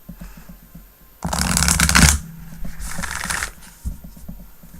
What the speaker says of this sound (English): That was so buttery smooth. I like that shuffle.